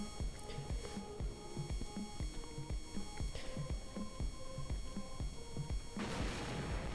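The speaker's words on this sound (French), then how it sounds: "Wouah l'explosion wesh. Un petit truc qui fait un gros boom." A sudden, loud explosion bursts near the end of a stretch of steady, rhythmic background music in the game Broke Protocol, after a small drone catches fire.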